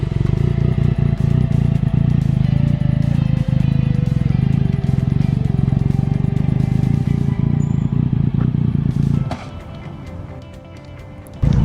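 A motorcycle runs steadily and loudly up close during braking and swerving practice on a training course, its engine droning without a break before easing off near the end, then picking up again.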